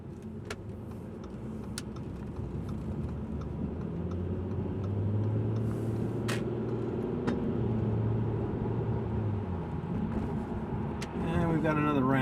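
An Audi A6 TDI diesel car driving on a highway, heard from inside as a steady low engine and road rumble with occasional ticks and a faint tonal hum near the end.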